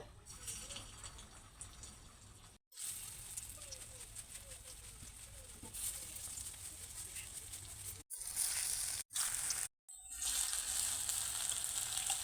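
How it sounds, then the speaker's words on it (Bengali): Small banana-flower kofta balls fry in hot oil with a loud, continuous bright sizzle that cuts out briefly a few times, then resumes. "এর থেকে আমি ছোট ছোট করে বড়াগুলোকে তৈরি করে নেব এরকম সাইজ করে আমি সবগুলো ভেজে নেব"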